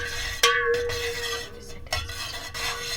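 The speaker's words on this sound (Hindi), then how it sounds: "अब इसको हम अच्छे से मिक्स कर लेंगे।" A spoon stirs lemon water with black salt in a glass, giving two clear ringing clinks against the rim amid soft swirling and faint background noise, with no voices.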